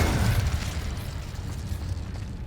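Confringo and Incendio spells detonating in a Hogwarts Legacy battle, a close booming burst that starts loud and trails off into a sustained rumbling, crackling roar.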